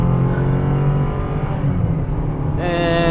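A 2023 Chevy Colorado Trail Boss pickup accelerating hard with brief wheel spin, a loud close engine roar whose pitch climbs and shifts near the end.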